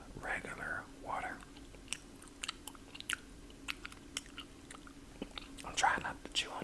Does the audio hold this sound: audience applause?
no